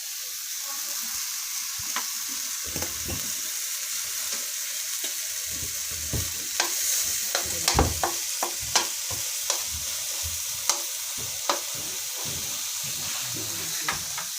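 Onions and garlic sauté in a pan with ground meat, a constant close sizzle punctuated by repeated sharp clacks of a spatula stirring against the pan.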